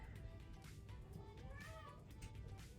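An older, talkative house cat meows several times in quick succession, its wavering cries rising over a dense background hum, fairly close, with a person's voice faintly present.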